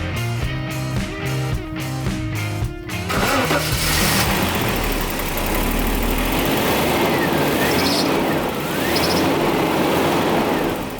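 A Jaguar XJ40 engine cranks with rhythmic churning, catches and fires up, then settles into a loud, steady idle with slight revving.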